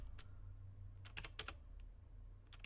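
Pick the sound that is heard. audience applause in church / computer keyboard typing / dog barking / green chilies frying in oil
computer keyboard typing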